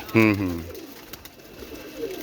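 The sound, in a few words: pigeon cooing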